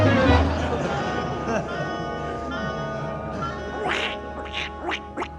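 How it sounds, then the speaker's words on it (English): A duck quacks in several short nasal bursts toward the end, following a stretch of talk and a low hum in an old radio comedy broadcast. "Cute duck."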